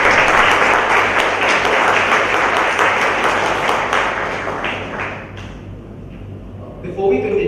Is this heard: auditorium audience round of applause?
yes